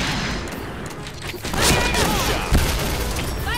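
Explosions hit the player in the shooter Point Blank, a couple of heavy booms amid dense, noisy game action, loud and close.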